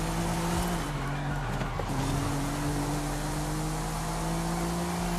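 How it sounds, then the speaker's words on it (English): An Audi RS5 Coupe in Forza Horizon road racing sends out a brief tire squeal as the brakes lock. The squeal rides over a loud, steady engine drone that shifts pitch as the car slows and then pulls away. "Lock up of the brakes, that's not gonna help."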